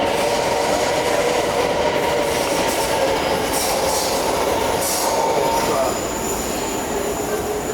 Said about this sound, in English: And this is a nice modern P30. Yes. The newer style subway.